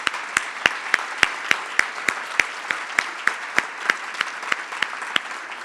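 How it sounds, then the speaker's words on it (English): Sparse audience clapping at a charity lunch program, a thin run of separate claps ringing at a steady, fairly even pace without cheering or voices. "So please give them a round of applause."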